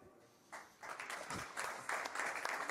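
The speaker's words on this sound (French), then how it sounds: "On applaudit!" A small audience at a French web conference gives brief, thin applause that starts faint and builds into a few bursts of clapping.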